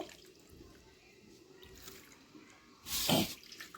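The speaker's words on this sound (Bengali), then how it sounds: "এখন মাছগুলোকে তুলে নিচ্ছি ধুয়ে নিসার জন্য" Water runs and splashes over a batch of large silver pomfret being rinsed for a spicy cauliflower curry, a low steady trickle that swells into a brief loud gush near the end.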